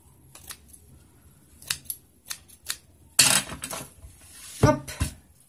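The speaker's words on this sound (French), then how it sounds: "je découpe quand même un petit peu pour pas que ça fasse" Scissors cutting paper for scrapbooking, with a few sparse snips followed by louder, sharper cuts and a brief clatter, close and alone.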